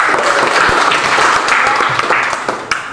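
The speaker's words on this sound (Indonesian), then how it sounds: "Tepuk tangan." A classroom of students claps together in a steady, dense burst of applause that stays loud throughout and tapers slightly toward the end.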